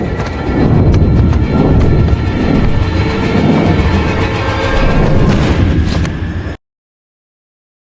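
Train in a film scene about a journey to Prague, a loud dense rumble of rolling wagons with heavy booming thuds, sustained for several seconds before cutting abruptly to silence.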